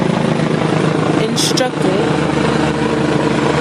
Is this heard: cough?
no